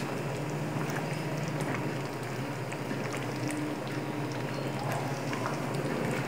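Couscous cooks in a pot of hot broth, giving a steady, moderately quiet bubbling and simmering texture with small scattered pops throughout.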